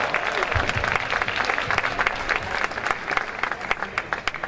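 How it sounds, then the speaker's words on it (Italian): Festival audience applauding at the opening of an event at Maschio Angioino in Naples, steady dense clapping with scattered cheers, moderately loud and continuous for several seconds. "Un applauso!"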